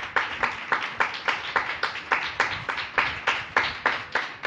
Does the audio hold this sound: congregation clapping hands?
yes